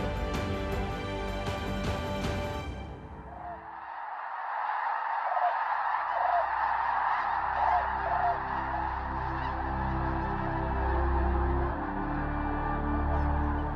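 Water birds at the artificial Karakol lake in Mangystau, Kazakhstan, honk in a busy goose-like chorus that continues for several seconds after a brief loud noise at the start.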